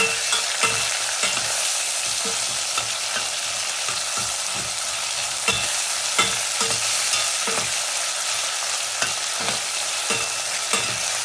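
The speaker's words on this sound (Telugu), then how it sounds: "కొంచెం వేపుకొని ఇంకా నువ్వులు కూడా కొంచెం వేపుకోవాలి" Steady sizzling of onions, ginger-garlic paste and sesame seeds frying in a pan, with a dense hiss and frequent scraping clicks from stirring, no voices.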